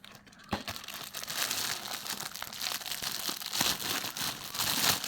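A Jumbo silicone condom box and packet being opened during an unboxing, with close, continuous crinkling and tearing of packaging and a few sharp rustles, fairly quiet and without talk.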